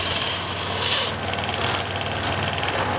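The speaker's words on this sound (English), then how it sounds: "let's see if the scooter still starts" A Vespa ET/LX scooter engine runs at a steady idle on a workshop lift after a belt change, a close, continuous buzzing putter with a slight mechanical rasp.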